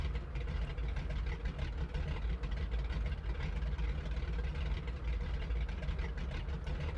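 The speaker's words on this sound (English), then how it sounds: "The idle sound of the engines as well, that throaty putt of the radials at low power is really nice." Radial engines of a Grumman Goose idle at low power in Microsoft Flight Simulator 2020 with a low, throaty, steady putter, a continuous rumble that stays even throughout with no voices.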